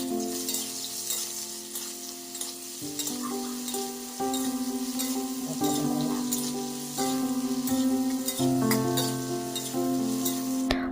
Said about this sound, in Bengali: আলুগুলি হালকা লাল হয়ে গেলে পটলগুলি দিয়ে দেব।